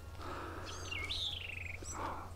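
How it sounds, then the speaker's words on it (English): Garden birds at Bok Tower Gardens chirp in a few clear, bright calls, including a longer sliding whistle, over a quiet low background hum. "Birds."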